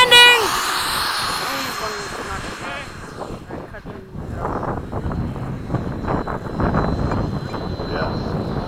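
A Freewing F-86 RC jet with an FMS 80mm ducted fan and a 100 amp ESC comes in to land. A whining fan tone falls in pitch, then gives way to a rushing, windy hiss while people talk nearby.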